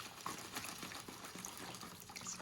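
Tap water runs steadily into a container while collecting more water for making sea glass, a soft continuous gush at close range with no talking.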